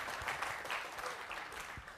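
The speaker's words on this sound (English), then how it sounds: "Small round of applause, please." Small round of applause from a lecture audience in a classroom, a brief scattering of claps with no voices, fairly even across two seconds.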